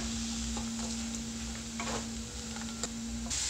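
Radish pieces sizzle gently in a pan after salt is added, stirred with occasional soft scrapes and taps, heard close over a steady background hum.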